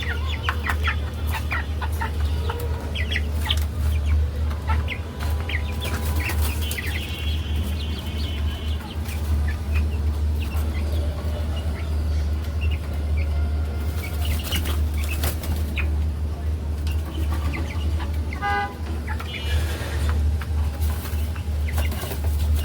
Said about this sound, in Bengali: দেখেন মুরগগুলা অনেক খুশি, যেহেতু তারা এখন আবদ্ধ খাঁচা থেকে বের হয়েছে, অনেক খুশি, লাফালাফি করছে।